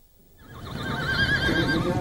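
A horse gives a loud, close whinny with a wavering, quavering pitch that swells over two seconds, amid men and horses preparing for a Buzkashi game in Afghanistan.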